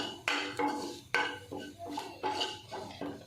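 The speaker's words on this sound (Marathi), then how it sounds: "हा मसाला त्या 4 ते 5 मिनिटं छान परतून घ्यायचा" Masala for a homestyle spiced eggplant dish being sautéed in a pan, a spatula scraping and clinking against the metal in a steady series of close strokes, with no voices.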